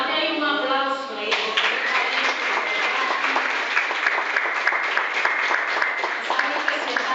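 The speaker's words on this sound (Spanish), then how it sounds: "Así que date ahí un aplauso ahí." A church congregation breaks into applause, starting over a brief voice and then swelling into dense, lively clapping that continues steadily to the end.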